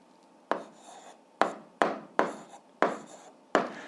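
Pen strokes on paper during an algebra exercise, six distinct scratchy marks at irregular intervals, close and clear against a quiet background.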